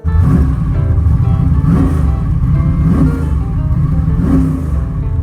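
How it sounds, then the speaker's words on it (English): A twin-turbo, five-speed Monte Carlo driven up a road gives a loud, continuous engine drone inside the cabin, rising and falling with throttle changes every second or so. "this is the first opportunity I've had to take the car up the road and make sure that this problem that would come and go is actually fixed"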